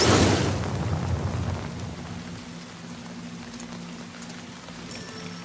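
Storm in The Last of Us Part II: steady rain hisses throughout, opening with a loud rumbling crash that fades into continuous downpour, and a faint sharp sound near the end, with no speech.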